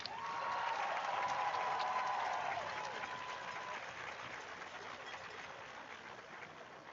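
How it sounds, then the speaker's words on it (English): At a Farmington varsity homecoming football game against Union, a stadium crowd applauds the honored 1990 team: a faint, distant wash of clapping that swells early and then slowly fades. "give another big round of applause to the 1990 Farmington football team"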